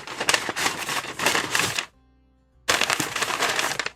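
Brown packing paper is pulled and unwrapped from a shipped parcel holding a boxed collectible figure, giving loud, close crinkling and crackling in two bursts separated by a brief pause.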